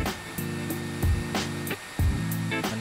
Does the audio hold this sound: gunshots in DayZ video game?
no